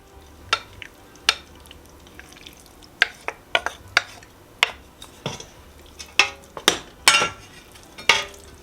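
Pasta and eggplant being stirred together in a pan, with scattered sharp clinks and scrapes of a utensil against the pan over a faint sizzle, irregular and close, with no voices.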